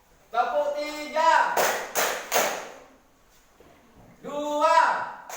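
Following a teacher's called instruction, a classroom of students claps three times in a quick, even unison pattern, then falls quiet before the teacher speaks again.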